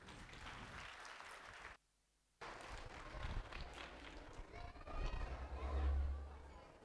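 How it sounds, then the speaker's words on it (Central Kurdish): Applause from an audience at a school talent festival, a broad clapping wash with crowd chatter that cuts out briefly, then returns and swells louder toward the end. "با بفەرموێت بە چەپڵەکانتان"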